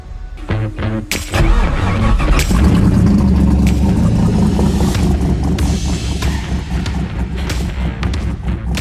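A V8-swapped car engine fires up with a few sharp thumps, then holds a loud, deep, rumbling rev that swells and wavers over several seconds.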